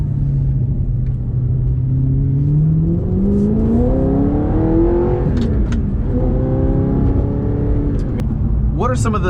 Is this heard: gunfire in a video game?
no